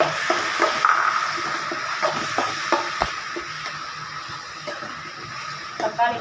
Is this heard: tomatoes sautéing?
yes